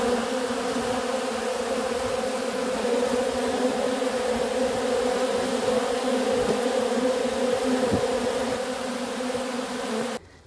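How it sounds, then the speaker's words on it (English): A loud, dense hum of honey bees robbing a hive fills the space continuously, close and intense, with a steady droning buzz and no talking. "Here's a close-up of some robbing behavior. You'll see bees wrestling with each other."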